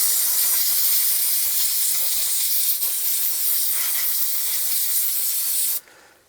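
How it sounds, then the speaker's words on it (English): Aerosol brake cleaner sprayed onto a 1992-1996 Ford F-150 front brake caliper, a loud close continuous hiss lasting several seconds before cutting off abruptly. "I like to clean this area with brake clean"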